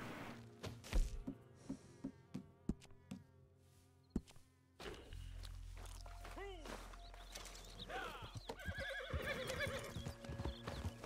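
Horse hooves clip-clop in sharp, uneven bursts while riding in the online western game Red Dead Online, then a horse neighs and whinnies in rising, wavering cries over a steady background rumble.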